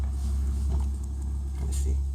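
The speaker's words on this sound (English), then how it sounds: "wait for this car to pass" A car passing outside, a steady low rumble of engine and tires that swells and fades slightly, heard indoors at moderate distance with no talk over it.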